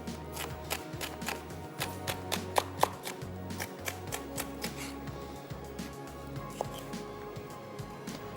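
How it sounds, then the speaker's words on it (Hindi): A knife chops capsicum bell pepper on a board in a steady run of quick, close, fairly soft taps. "जब तक मैं कैप्सिकम यहाँ पे कट कर रहा हूँ"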